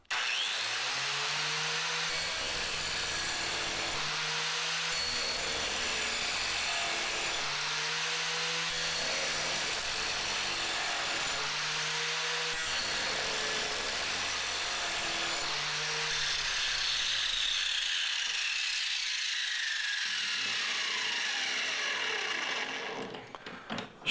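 A grinding disc works the edge of an Oregon Gator blade from a Skag mower, a steady close abrasive hiss in repeated passes with short pauses between strokes, the motor winding down at the end.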